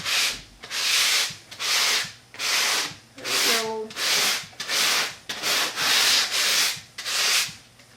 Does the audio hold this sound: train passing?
no